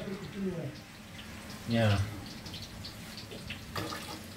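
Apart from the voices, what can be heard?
washing chicken under running tap water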